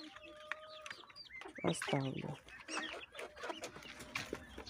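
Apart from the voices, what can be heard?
chickens and young roosters clucking in coop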